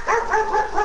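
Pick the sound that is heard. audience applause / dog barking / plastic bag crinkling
dog barking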